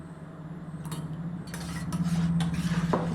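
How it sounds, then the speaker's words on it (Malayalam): A spoon stirring curd culture into milk in a vessel, light metallic clinks and scraping against a steady low hum, close and fairly quiet with no talking. "നല്ലപോലെ ഒന്ന് ഇളക്കുക."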